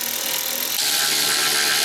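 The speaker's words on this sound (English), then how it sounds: "So I'm gonna put these screws back in for the head unit itself." Screws are driven back in while reinstalling the screen head unit of a BMW M3/M4 during an aftermarket wireless CarPlay module install, heard as a steady close ratcheting, whirring buzz that grows louder and denser partway through, with no talking.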